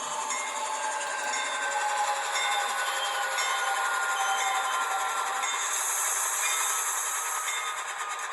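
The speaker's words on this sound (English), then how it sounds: "Let's bring this train to a halt." An HO scale GE AC44C6M model locomotive in Norfolk Southern livery runs along the track while slowing to a halt, a steady hissing, rolling rail noise with light clicking, held at an even level throughout.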